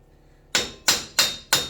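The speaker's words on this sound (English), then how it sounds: "I'm going to try to hammer it out." Four sharp metallic hammer blows on a rusted wheel bearing of a Nissan Xterra land at a steady, unhurried pace, each ringing briefly before the next strike, close and loud with no voices.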